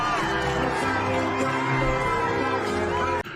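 A big crowd at a Canelo–Munguia boxing weigh-in roars and cheers continuously with whoops, loud and dense throughout before cutting off abruptly at the end.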